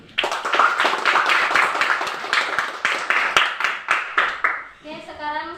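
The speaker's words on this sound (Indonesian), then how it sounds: "kita kasih aplaus untuk kelompok 2" Classroom of students clapping for a presenting group, dense continuous applause that thins into scattered claps and fades out, ending with a brief trailing voice.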